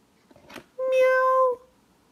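A cat meow from a Hey Duggee fire truck toy, a single short electronic meow with a breathy noise just before it, loud and close.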